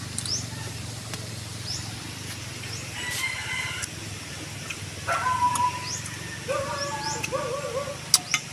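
Birds give several short, clear calls one after another outdoors by a river over a soft background hum, with faint voices nearby.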